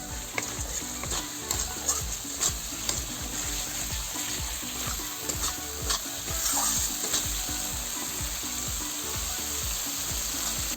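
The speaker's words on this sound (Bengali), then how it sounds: "অল্প একটু জল দিয়ে আর একটু কষাবো মশলাটা" Masala spice paste for egg omelette curry fries in a pan with a splash of water, making a busy bubbling sizzle with repeated scraping stir strokes close by, with no talking.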